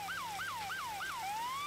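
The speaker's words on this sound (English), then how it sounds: "turn the sirens off" Police siren in the GTA 5 video game, a loud rising-and-falling wail repeating four quick cycles before settling into a steady tone, heard alone with no talking.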